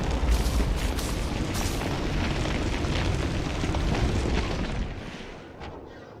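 Rocket explosions in the video game Elite Dangerous, fired at a ground vehicle near a base, roll out as a long, loud, booming blast that rumbles on and tails off near the end.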